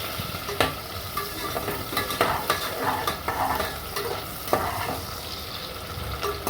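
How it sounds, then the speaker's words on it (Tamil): Onions sautéing in a pan for bisi bele bath, a close, continuous sizzle with repeated scraping strokes as they are stirred. "வெங்காயம் விதங்கிடுது"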